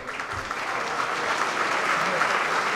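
Dense audience applause fills a hall at a rugby club's squad presentation for the 2025/2026 season, a steady wash of many hands clapping at even loudness throughout.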